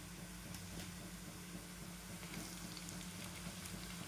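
Onion fries in a pan with a faint, even sizzle and occasional soft crackles, low in level and steady throughout, with no one talking.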